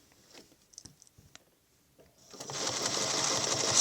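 A sewing machine stitches a Baptist Fan quilting pattern, starting as a steady whir after faint clicks and light handling noises in a quiet opening.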